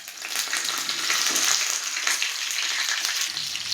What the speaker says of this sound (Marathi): तेलामध्ये इकडे मिरची घालूयात.